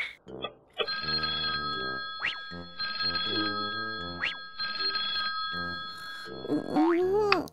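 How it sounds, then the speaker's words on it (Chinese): A telephone rings in repeated bursts of bright electronic trilling, with short pauses between rings and a few springy sound effects. "大半夜的，谁打电话来啊？"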